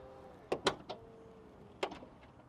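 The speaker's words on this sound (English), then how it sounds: "Automatic tailgate." Automatic tailgate on an Audi Q3 Sportback 35 TDI closing, a brief motor whir followed by a few sharp latch clunks close by, then a final thunk, with no talking.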